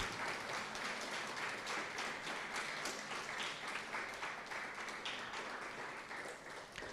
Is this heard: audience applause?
yes